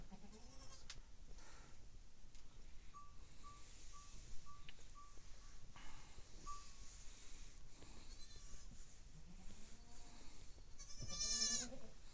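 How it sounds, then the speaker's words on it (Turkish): A newborn lamb bleats in a short series of thin, wavering cries, some near and some slightly distant, with quieter farmyard background noise between calls. "en son doğan kuzu da bu olsa gerek."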